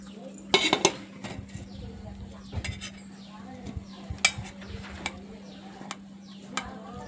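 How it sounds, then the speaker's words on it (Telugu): A knife cuts dragon fruit into pieces, giving sparse clicks and taps of the blade on a plate or board over a steady low hum, with no talk. "దీన్ని పీసులుగా కట్ చేస్తాం అనమాట"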